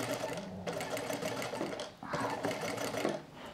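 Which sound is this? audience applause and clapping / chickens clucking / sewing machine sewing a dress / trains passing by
sewing machine sewing a dress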